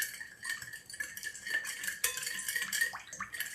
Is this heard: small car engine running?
no